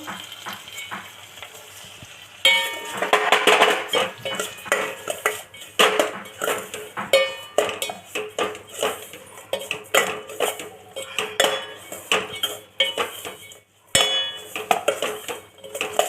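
Semolina for upma stirred in a pan, repeated loud scraping and clinking of a metal spoon against the pan in irregular strokes over a low sizzle, close up with no speech.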